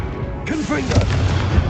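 Confringo explosive spell blast in Hogwarts Legacy, a sudden booming hit with crackling fire effects, loud and close, with a character's voice calling out over it.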